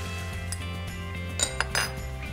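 Noodles being mixed with ketchup, black pepper powder and vinegar for chana hakka noodles, utensils clinking and scraping in a bowl over a steady background hum, a few brief metallic knocks.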